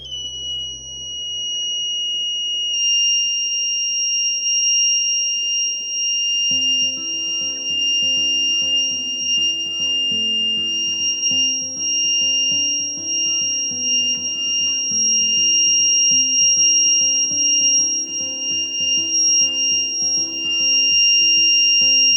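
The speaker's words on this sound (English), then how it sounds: "once the water droplet falls on the sensor, the buzzer gets activated." A rain sensor alarm's piercing, continuous electronic buzzer tone, triggered by water droplets, sounds steadily and loudly throughout, with faint background music underneath.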